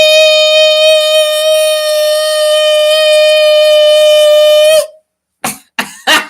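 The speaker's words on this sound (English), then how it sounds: "I will keep raising the sounds of the siren." A loud siren wails on one steady, sustained tone for about five seconds and then cuts off abruptly. After a short silence, a few brief bursts of the siren follow.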